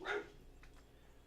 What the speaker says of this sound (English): And the dogs.